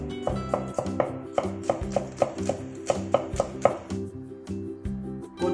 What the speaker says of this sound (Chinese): 蒜和葱白剁碎